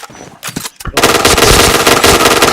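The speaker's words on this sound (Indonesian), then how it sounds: "ada tembak Bang Bi." Rapid automatic gunfire erupts in PointBlank, a loud dense burst after a second of sparse shots and game noise, sustained and close until the end.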